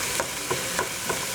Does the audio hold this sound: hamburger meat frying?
yes